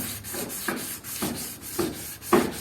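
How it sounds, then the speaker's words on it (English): Hand wet sanding on a Honda Civic EG hatch wiper cowl, a soft rhythmic rubbing rasp of abrasive paper on the panel, about five strokes spaced roughly half a second apart, close and moderately loud with no voices. "It's much easier wet sanding than dry sanding."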